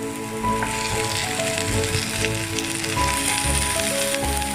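Chicken leg pieces sizzle steadily in a cooked-down masala with salt, a dense, continuous frying hiss at close range that carries through without pause and with no talking.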